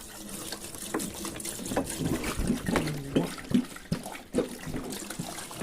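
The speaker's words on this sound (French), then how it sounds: "Là, je vais rincer le bac." Water runs from a tap over a washing machine's detergent tray as it is rinsed out, a soft uneven splashing and trickling close by, with small knocks of the plastic tray.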